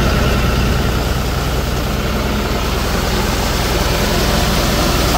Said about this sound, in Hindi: RPM की बात करें तो हम ये 11 के RPM पे लगभग थ्रेसर चल रहा है, 1100 RPM पर